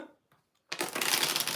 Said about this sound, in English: I didn't realize how much I like to vape when I shuffle cards